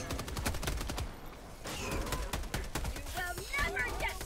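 Turret gunfire in the video game Helldivers 2, rapid bursts of shots crackling amid chaotic battle sounds, with players talking over the action.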